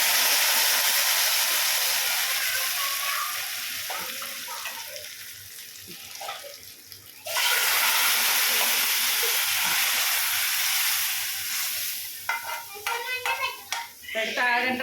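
A hot tempering is poured into cooked moong dal and sizzles with a loud, close hiss that fades, then surges again and breaks into crackling bursts near the end, with brief faint talk.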